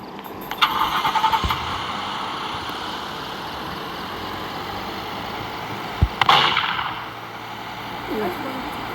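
A vehicle engine starts in the Roblox game Dead Road, with sharp mechanical bursts and a revving cranking sound rising over a steady low game rumble. Voices come and go in the background.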